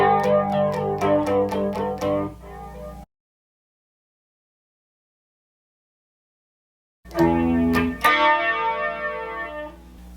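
An electric guitar plays a riff with a distortion effect, a short run of picked notes, then silence for several seconds before the distorted riff resumes loudly.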